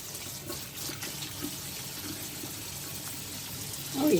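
Water from a shower runs in a steady hiss, close and continuous, swelling slightly louder at the end.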